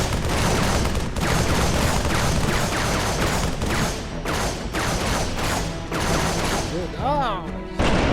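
Grenade blasts and gunfire sound from a LEGO Halo game, with loud repeated bursts and crashes in quick succession and excited voices shouting among them.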